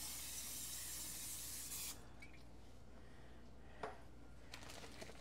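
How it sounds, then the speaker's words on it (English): A steady hiss of cooking spray into a crock pot for about two seconds, close by, then stopping, followed by quiet room tone with a faint click. "First, we're going to take our spray and spray our"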